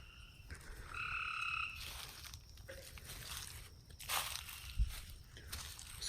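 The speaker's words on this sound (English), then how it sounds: "There's another green frog." A green frog croaking at night in a backyard, a few short croaks close by over a quiet background of insects and faint rustling.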